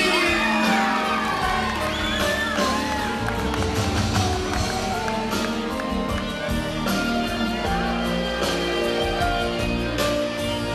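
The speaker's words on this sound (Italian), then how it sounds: "venate San Valentino, applausi!" A live audience at an Italian Valentine's Day show cheers, whoops and shouts over loud, dense music, with crowd noise carrying steadily through the whole stretch.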